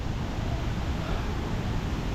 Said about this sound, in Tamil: இப்போ வாட்டர் ஃபால்ஸ் ஒன்று தண்ணி ஃப்ளோ அதிகமாக இருக்குது.